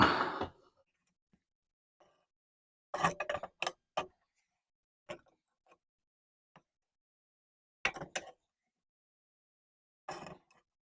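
A very large pipe wrench tightens a cylinder fitting on a Freeman loader, producing sparse metallic clicks and ratcheting clunks in short bursts separated by silence, close and fairly crisp.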